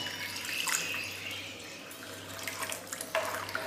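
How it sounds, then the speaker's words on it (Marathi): A steady stream of water pours and splashes into a cooking pan of vegetables, close by and continuous, with a faint low hum underneath. "याच्यामध्ये टाकायचं पाणी"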